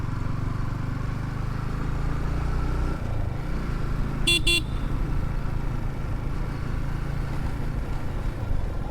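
A motorcycle rides in the dedicated motorcycle lane of the Padma Bridge, its steady engine and road rumble continuous throughout, with a brief loud horn toot about midway.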